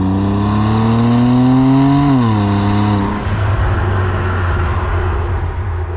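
A BMW M2 Competition engine revs while driving, with a loud, close, steady drone that climbs briefly in pitch. The revs then drop into a rougher, lower rumble.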